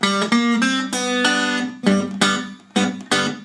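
A full Delta blues riff on acoustic guitar, a steady run of about a dozen plucked notes with bright ringing strings and a few short gaps, played up close with no voices.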